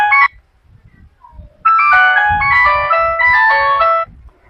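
A phone plays an old ringtone, a loud, bright electronic melody of quick stepped notes, a brief opening burst followed by a longer run of the phrase after a short pause, with faint handling noise beneath.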